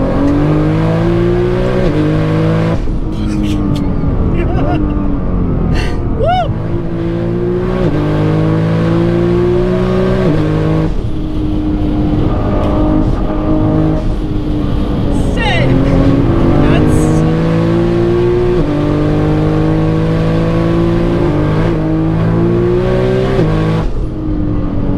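Tuned 1300 hp Nissan GT-R with a flex-fuel setup lapping a race track, its engine droning loud and steady with repeated rises and drops in pitch as it accelerates and shifts, continuous throughout.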